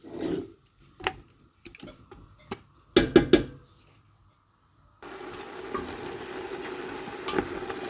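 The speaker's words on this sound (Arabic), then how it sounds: "نشعل عليها الفرن باش تقلالي مليح هكذا" Food frying in a pan on a stove with black pepper, ginger and paprika: a few clattering stirs and knocks come first, then a steady close sizzle sets in and holds to the end.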